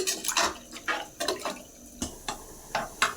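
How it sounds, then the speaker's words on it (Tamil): Water coming to a boil in a pot of rice for peas pilaf, a series of separate bubbling pops and gurgles in an uneven rhythm, fairly faint and close. "கொதிக்குது."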